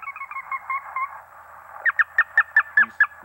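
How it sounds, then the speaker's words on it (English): Sora rail calls play from a digital message repeater: a soft run of low calls gives way to a series of about seven sharp, high squeaking notes spaced evenly, fairly close and clear, with no talk. "So if we listen, you'll hear the voice of the Sora."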